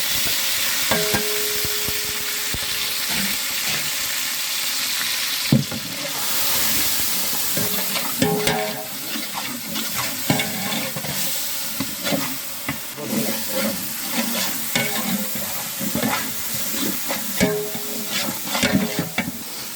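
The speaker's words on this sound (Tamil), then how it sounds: "இப்போ இஞ்சி பூண்டெல்லாம் வதங்கிடுச்சு." Ginger garlic onion paste with powdered cinnamon, clove and cardamom and tomato sautéing in a large pot of chicken gravy for fifty people, a steady close sizzle broken by repeated scraping stirs of a ladle, with no talk.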